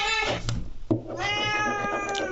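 A cat meows twice, close and fairly loud, the second call longer and drawn out, with a faint knock between them.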